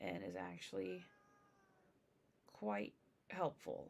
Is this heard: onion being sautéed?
no